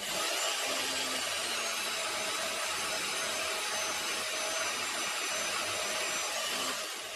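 A saw blade cuts steadily through a homemade lathe steady rest part, a continuous loud grinding, rasping drone that holds at an even level without pause.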